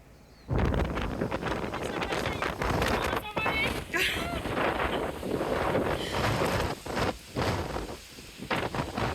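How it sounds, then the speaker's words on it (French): Strong wind roars and buffets the microphone almost continuously, loud and gusty, with brief lulls and a voice briefly audible underneath. "En effet, il y a énormément de vent."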